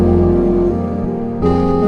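Half-timed beat with a deep 808 bass, heavy low tones and tonal layers shifting over under two seconds, ending abruptly.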